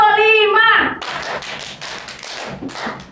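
A classroom group claps a five-beat pattern of sharp, loud, evenly spaced claps right after a voice briefly calls out, the claps filling the rest of the moment.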